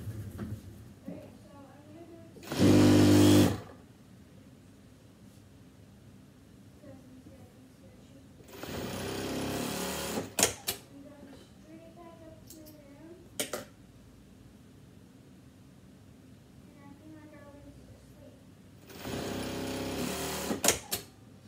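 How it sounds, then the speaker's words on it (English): A sewing machine stitches the side seams of a bodice in three loud, steady whirring bursts, each a second or two long, with quieter gaps between them where a person talks. "you're gonna sew the side seams together"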